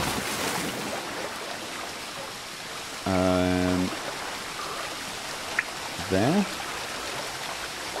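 A waterfall in The Witcher 3 video game splashing into a pool, a steady rushing wash of water throughout, with someone speaking briefly and a few tonal game sounds on top.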